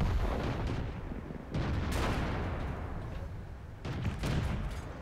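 Tank cannon shots in the game World of Tanks, with at least two heavy booming blasts about two seconds apart, each followed by a rumbling decay over continuous battle noise.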